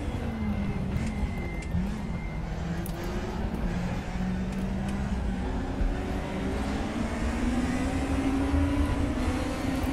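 An old Audi DTM touring race car in the RaceRoom racing game, played in VR, holds a loud, steady engine drone whose pitch climbs and falls through the gears for the full stretch, with no voices over it.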